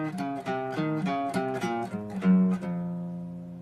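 A guitar plays a short reading-exercise melody as a run of clear single plucked notes in a steady rhythm, ending on a held low note. It is heard alone at close range.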